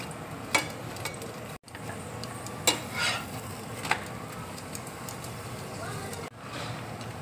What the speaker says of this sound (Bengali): এবার দেখো তেল দিয়ে আমি ভেজে নিচ্ছি।